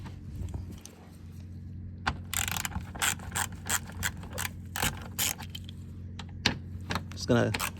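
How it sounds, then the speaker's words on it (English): A ratchet loosens the 10mm bolts on the under tray near the front bumper of a Range Rover HSE L322 with a Jaguar V8, clicking close and loud in quick bursts with short pauses between them. "you're gonna remove all the 10mm bolts and then remove this piece first"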